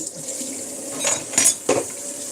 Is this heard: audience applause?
no